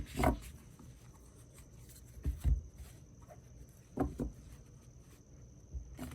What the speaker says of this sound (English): Let's do some shuffling.